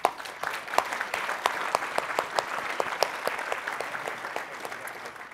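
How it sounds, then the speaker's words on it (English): An audience at a business awards ceremony applauds the night's nominees, scattered sharp claps blending into steady, moderately loud applause from a crowded room. "Please give all our nominees a big round of applause."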